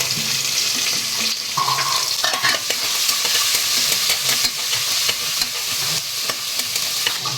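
Sliced onion and three green chillies sizzle in a hot oiled pan while a spoon stirs them, a dense continuous frying hiss with scraping stirs throughout.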